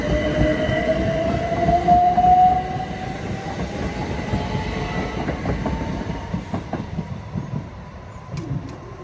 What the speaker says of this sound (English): So that's the train we just got off.